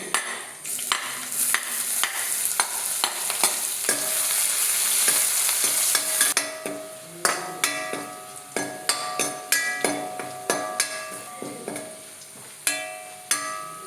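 Garlic and shallots frying with ginger in a pan for a Kerala-style tomato curry. A loud, dense sizzle with quick stirring comes first, then gives way to a rhythmic series of sharp spoon taps against the pan.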